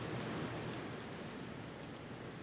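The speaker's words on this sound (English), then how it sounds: "Okay, that rain is kind of loud." Steady, dense video game rainfall hisses evenly without a break, a constant wash of patter with no voices.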